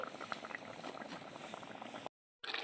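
Milk boils in a pot for doi ilish, with no water added, bubbling and popping in a busy, close simmer that runs steadily. The sound cuts out to silence briefly near the end before it resumes.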